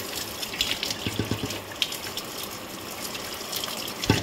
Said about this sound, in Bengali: তো এখন অ্যাকোয়াগার্ডের জল দিয়ে একটু ভালো করে ধুয়ে নিই।